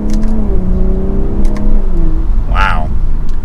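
A 2022 BMW M340i sedan with the B58 engine accelerating at half throttle with short shifts in 3rd gear, a smooth, loud engine drone that climbs in pitch, then eases, with someone talking over it.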